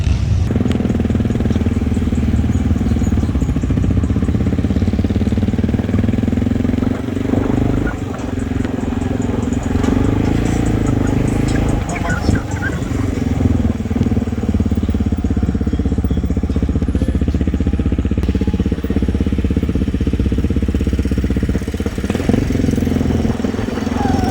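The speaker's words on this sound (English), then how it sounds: "ride your motorcycle on the white sands of Daytona" A Honda XR650 motorcycle engine rumbles loudly and continuously while riding on Daytona Beach sand, with a deep throbbing tone that shifts slightly in pitch over time.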